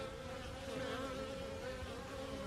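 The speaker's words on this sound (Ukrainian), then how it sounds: "Навіть бджолки, бачите, починають де-не-де потрошку літати." Honeybees flying around an apiary hive in early spring during a warm winter, a continuous close buzzing hum of many wings with no voices.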